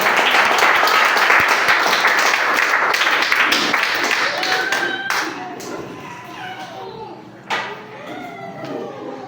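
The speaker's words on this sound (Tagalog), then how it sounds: "Palakpak sa Diyos, mga igsoon." A church congregation claps together in loud, dense applause that gradually thins into scattered claps, with a voice speaking over the tail end.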